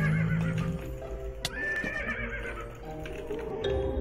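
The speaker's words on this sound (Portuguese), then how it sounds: "Eu já estou ouvindo barulho de cavalo, galera." A horse whinnies loudly amid hoofbeats and a busy, layered background of other sounds, in Minecraft with the Mo'Creatures mod.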